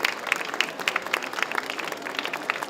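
An award-ceremony audience at a Paris chocolate fair applauds steadily, with many overlapping hand claps forming a lively, moderately loud patter and no voices on top.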